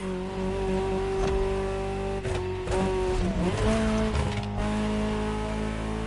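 Ferrari supercar engine in The Crew Motorfest racing game, a loud, steady high-pitched roar with shifting revs and brief gear-change dips, close and continuous with no talk.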